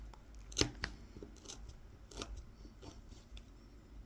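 A knife scores lines into a wooden spoon during kolrosing. Several sharp, scratchy cuts, each brief and close, with quieter scraping between them.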